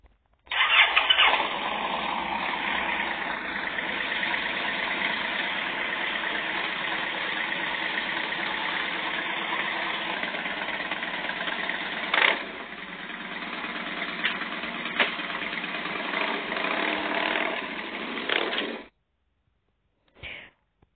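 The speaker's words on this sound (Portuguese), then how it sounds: "A próxima moto que eu vou mostrar pra vocês é a Victory Hammer S." Victory Hammer S motorcycle engine cranks and catches, then settles into a steady, loud close-up idle for about eighteen seconds before cutting off, with a short burst near the end.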